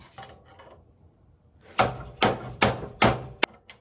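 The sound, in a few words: hammering on a truck part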